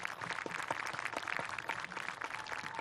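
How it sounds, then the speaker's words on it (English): An audience at a 2020 Herkimer CSD high school graduation ceremony claps for the principal, a continuous wash of many hands that sounds fairly distant and soft and keeps an even level throughout. "give our principal, Ms. Tommaso, a huge round of applause"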